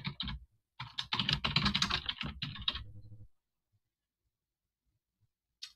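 Quick, clattering keystrokes on a computer keyboard as a rubric title is entered, a brisk burst of close taps for about three seconds, then silence with one last isolated click.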